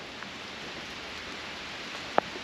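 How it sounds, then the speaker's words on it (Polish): Steady, soft hiss of rain falling outdoors beside the palace in Pszczyna, an even wash of patter with one brief louder tap near the end. "Niestety właśnie zaczął padać deszcz"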